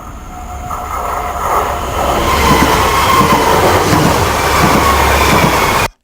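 Train passing by in the video game Payday 2, a rumbling, clattering rail noise that swells in loudness and holds steady before cutting off abruptly.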